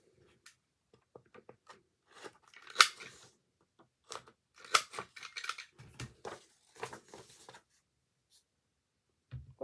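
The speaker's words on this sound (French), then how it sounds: "Je vais couper les angles." Scissors snip the corners of paper for a Stampin' Up tea-cup advent calendar craft, a series of short crisp close cuts in irregular bursts with quiet pauses between.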